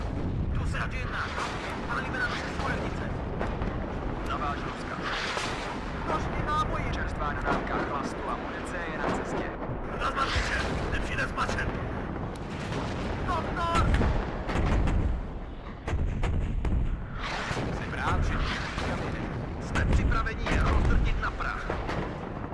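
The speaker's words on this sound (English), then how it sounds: "So much artillery." Artillery fire in the WARNO strategy game thunders in repeated heavy booms and rumbling impacts, coming in surges every few seconds, with someone talking over the barrage.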